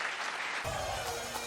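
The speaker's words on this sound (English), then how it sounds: "Round of applause for everyone that took part" A live comedy podcast crowd at the Edinburgh Fringe claps in a brief burst of close, dense applause.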